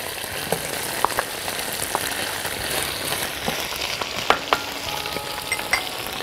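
Onions frying in a hot pan for a meat dish in cream and lemon sauce, giving a continuous close sizzle broken by sharp little pops and light stirring scrapes.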